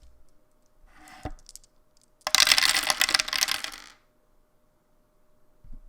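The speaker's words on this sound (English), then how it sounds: "I would show you guys what it sounds like when you roll 8d6" Eight small six-sided dice rolled right up against a microphone, a brief rattle then a dense, loud clatter of plastic cubes tumbling and settling for under two seconds, close and alone.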